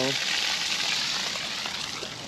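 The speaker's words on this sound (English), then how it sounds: "we'll turn on the water here to release the pressure so the pressure switch" Water rushes from an open tap to bleed off pressure in a water pump system run from a Bluetti AC200P power station: a steady, loud, close gushing hiss that fades slightly over about two seconds.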